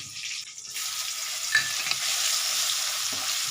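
Crushed garlic and whole spices such as cardamom, cinnamon and bay leaves hit hot oil with a sudden crackle that settles into a steady, moderate sizzle, with a few light clinks, no talking.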